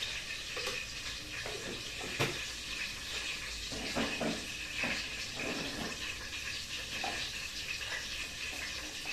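Spinach frying in a pan with ginger-garlic paste, chilli powder, turmeric and salt, giving a steady soft sizzle and hiss with scattered stirring scrapes and clinks close by, no talking.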